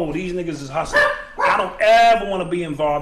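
A dog barking indoors during a hip-hop talk show: several close, sharp barks and yips rising over a man's speech, mixed loudly with the talking.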